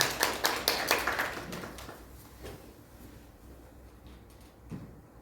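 A small church audience welcomes a pastor with a short burst of fairly close, quiet clapping that thins out within a couple of seconds, leaving a few scattered claps in a hushed room.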